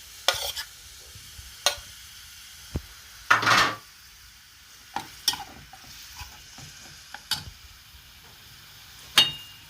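Meat dropped into about three spoonfuls of hot oil in a home kitchen pot sizzles in short bursts, with scattered stirring scrapes and utensil clicks between quieter moments.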